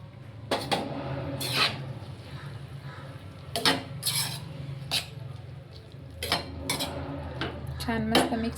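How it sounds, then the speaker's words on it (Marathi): A spoon mixes ridge gourd curry with fresh coriander in a metal pot, giving repeated clattering scrapes and clinks against the pot in irregular bursts, close and fairly loud. "छान मस्त मिक्स करून घेतो."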